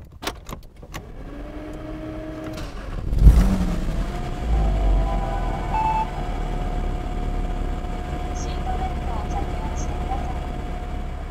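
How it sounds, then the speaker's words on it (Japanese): A 2011 Porsche Cayman S Type 987 with PDK gearbox starts with a cranking whir and catch, briefly revs, then settles into a steady low idle after an earlier voice. "ではエンジン始動していきます。"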